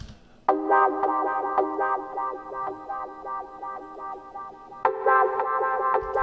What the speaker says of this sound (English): So I did like a wah guitar sound, which essentially just sounds like this.